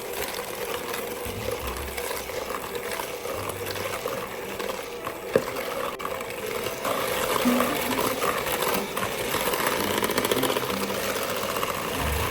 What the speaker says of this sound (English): you can take your electric mixer or just a fork and mix it all together